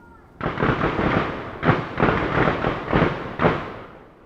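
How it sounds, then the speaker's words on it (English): Gunfire from a shooting range in a town, a rapid series of loud, reverberant cracks and booms in irregular bursts, heard from a distance with rolling echo between shots. "The town feels calm and peaceful, at least until the gunfire starts."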